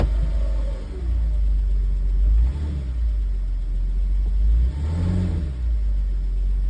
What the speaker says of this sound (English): Again, it's more of an alternator noise.